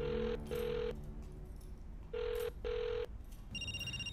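A telephone rings with an incoming call in a quiet indoor scene from a Bengali drama series, sounding four long ringing bursts in two pairs before a brighter electronic tone takes over near the end.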